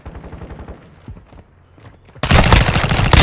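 Automatic gunfire in Call of Duty: Modern Warfare II team deathmatch, quiet footsteps and scattered shots giving way to a sudden loud, sustained burst of rapid fire.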